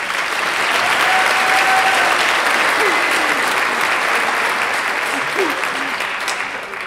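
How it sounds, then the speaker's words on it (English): Audience at a seventh-grade school choir concert applauds after a three-part choral piece, loud sustained clapping with crowd murmur, a few faint voices mixed in, tapering slightly at the end. "So another round of applause for that"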